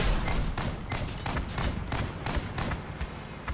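Automatic 40mm grenade launcher in the Crossout vehicle combat game, a rapid series of dull thumping shots and impacts, irregular and fairly loud, over constant game noise.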